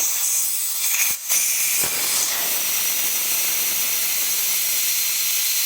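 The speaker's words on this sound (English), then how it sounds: "you'll hear the air coming out" Steady, loud hiss of air escaping from a riding mower tire valve with the core removed, running continuously for several seconds with a couple of brief interruptions near the start.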